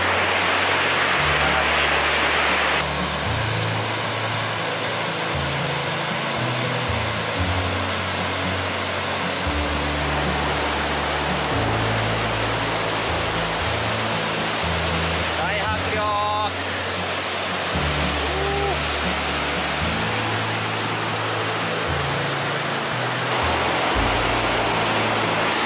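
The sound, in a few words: roaring river flowing alongside the road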